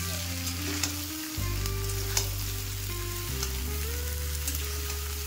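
Diced bottle gourd fries in a pan on high heat with a continuous close sizzle, stirred now and then, over a steady low hum that shifts pitch a couple of times.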